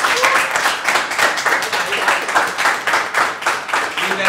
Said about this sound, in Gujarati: સૌથી પહેલા તો ખૂબ બધી તાળીઓ સાથે આપણે